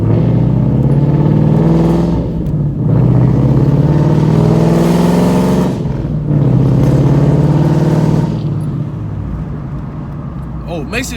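A Ford Mustang 5.0 driving on wet roads in the rain, its engine rumbling loudly and surging in repeated revs, with tyre hiss and spray around it and someone talking throughout.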